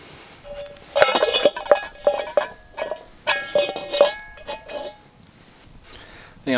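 A metal pan is set down and shifted on a camp stove for cooking pork steaks on a hike in South East Queensland's high country. It gives a series of sharp clinks and knocks at close range, with some talk in between.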